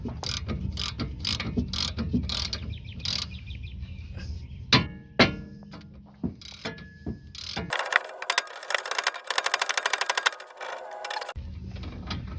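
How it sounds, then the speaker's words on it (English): A hammer strikes a tie rod on a VW Fox, sharp metallic smacks landing irregularly at close range, some isolated and some in quick bursts, mixed with clanking and rattling of tools and a stretch of steady mechanical noise. "we're going to smack this with the hammer back in place"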